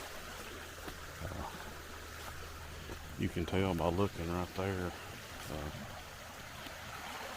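A creek running high after hurricane flooding gives a steady soft rush of water beneath a hiker's brief nearby speech.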